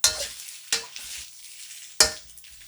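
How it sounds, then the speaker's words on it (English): Bok choy stir-frying in a wok, bright crackling sizzle with three sharp bursts of tossing and scraping, close and fairly loud with no voices. "going to go ahead and put the bok choy in"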